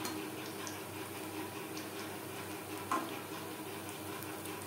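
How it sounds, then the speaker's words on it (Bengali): Stuffed spiny gourd (kakrol), left raw, fries in oil over a low flame with a faint, even crackle and sparse soft ticks, plus a brief clink partway through and no voices. "আমি লো ফ্লেমে অনেকটা সময় ধরে ক্রিস্পি করে ভেজে নেব"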